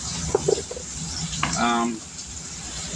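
White gravy with bacon and onions cooking in a pan for smothered pork steaks, a soft steady sizzle running under a voice, with a few stirring clinks near the start.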